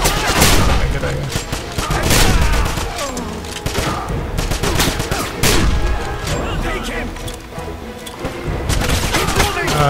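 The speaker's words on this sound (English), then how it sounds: "Pull out the machine gun." Machine gun fire in the video game Wolfenstein rattles out in dense, loud bursts with heavy booming impacts, nearly continuous throughout.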